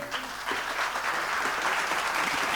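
An audience at a Mumbai Sankranti gathering of the Karhade Brahmin Sangh gives Hemant Kirloskar a full round of applause, dense steady clapping that holds loud across the whole stretch.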